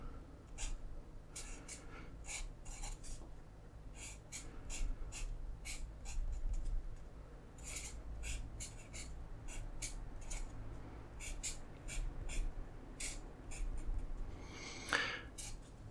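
Pen scratching across paper while drawing a circuit diagram, bursts of quick strokes and taps with short pauses, close and quiet against a low steady hum.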